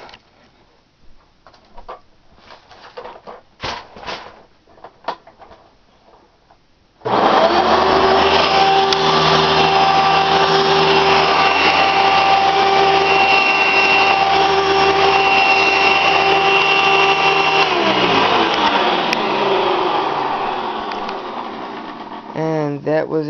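A Hoover Encore Supreme Soft and Light upright vacuum cleaner with a stapled repair and a faulty brush roll, switched on after handling clatter and a voice, then a loud steady close whine and drone that later winds down.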